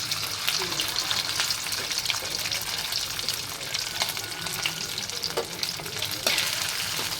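Dense, continuous sizzling of food frying in a pan, loud and close, with a few faint stirring clicks and no talk.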